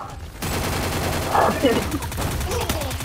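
Gunfire in a video game, a rapid fusillade of shots after a brief quiet start, loud and continuous with bursts near the middle, with a player's voice talking in places.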